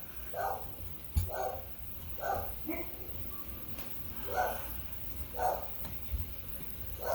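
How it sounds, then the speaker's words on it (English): Several dogs bark in a steady series of evenly spaced, moderately loud barks from a short distance away indoors, about six in all, over a low background hum. "And there goes my dogs."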